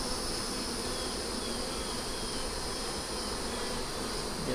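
A steady, close drone of many honey bees fills the air around an opened hive, unbroken and even in level, with no speech.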